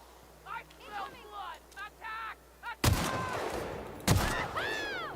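Assault rifle fire in The Outer Worlds, two loud sudden bursts of gunfire separated by about a second, each followed by ringing decay, after a quieter stretch of game sounds and a man's brief speech.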